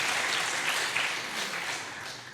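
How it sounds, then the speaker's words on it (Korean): A church congregation at a Friday prayer meeting claps together in dense, even applause, a continuous wash of many hands that holds steady and then eases off slightly. "우리 하나님 앞에 영광의 박수 한번 하시죠"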